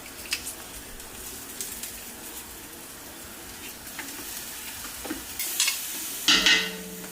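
Garlic cloves go into a pan of sweating collard greens, setting off a soft, steady sizzle with stirring and light utensil scrapes, then a few louder spatters and clatters toward the end.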